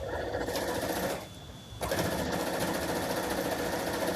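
A longarm quilting machine stitches a quilt on its frame, running as a steady loud rapid mechanical whir that drops briefly in the middle before resuming at full pace.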